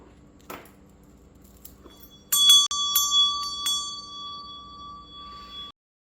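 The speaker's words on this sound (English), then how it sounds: "I definitely want to ring my meditation bell." A meditation bell is struck several times, its bright metallic tone ringing out and sustaining in a long, clear decay before cutting off; faint low background hum underneath, no speech.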